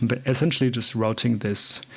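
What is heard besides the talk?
None of the usual background noises is heard.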